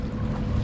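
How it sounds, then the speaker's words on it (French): Wind blowing across a sailboat at sea, a steady low roaring rush with buffeting on the microphone, loud and continuous with no talk. "Voilà. Le vent."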